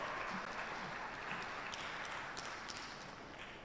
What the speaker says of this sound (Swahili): Makofi mengi, naomba makofi mengi kwao.